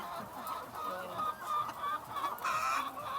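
Chickens cluck and chatter continuously at close range, several caged laying hens overlapping in a busy, noisy coop.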